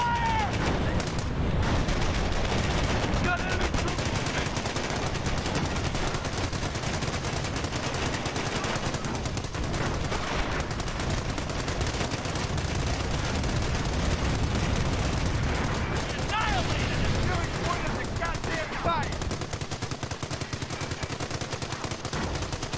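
Continuous gunfire across a Company of Heroes battlefield at Cherbourg, with overlapping machine-gun bursts and rifle shots rattling steadily throughout and occasional heavier blasts beneath game voices.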